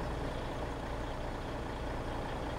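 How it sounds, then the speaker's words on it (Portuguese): A Mercedes-Benz 3245 truck engine in the Farm Simulator video game roars at a steady, dense, low-pitched drone under heavy load, with no talk over it. "Deixa eu embalar aqui com esse caminhão"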